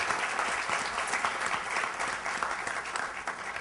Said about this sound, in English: Let's give Stephanie Tubbs Jones a big round of applause.